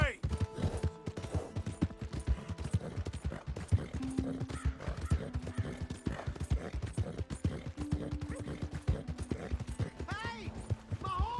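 Horse hooves clip-clop in a video game, a quick, continuous galloping rhythm with neighs and whinnies breaking through, mixed with other game sounds and voices.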